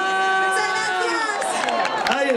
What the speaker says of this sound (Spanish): Ese aplauso, ese grito.